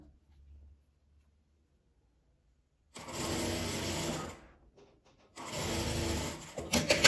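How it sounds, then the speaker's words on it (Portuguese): A sewing machine stitches fabric scraps in two bursts of about one and a half seconds each, close and moderately loud, separated by near silence and faint handling noises. "Venho costurando com um pezinho de máquina"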